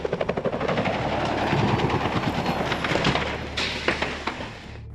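A news helicopter filming a truck rollover on Weir Road, London, pounds with heavy rhythmic rotor thumps that blur into a loud, roaring whine, then ease slightly toward the end.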